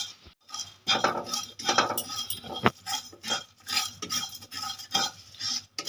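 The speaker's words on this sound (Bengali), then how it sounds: "আমি কড়াইয়ের মধ্যে মশলাগুলো ভেজে নেব" Fennel and coriander seeds are stirred and fried in a wok, heard as a close, busy run of metallic scraping and clinking over a light sizzle, with no speech.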